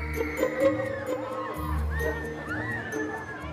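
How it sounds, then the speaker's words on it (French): Riders screaming on a newly opened spinning amusement park ride, rising and falling shrieks and whoops from a crowd sweeping across a busy outdoor background. "on commence à entendre les tout premiers cris, c'est bon signe"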